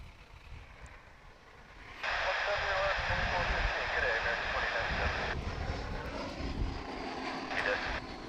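An American Airlines Airbus passes at DFW International Airport, a loud, steady jet roar that swells in and holds for several seconds, with voices talking over it.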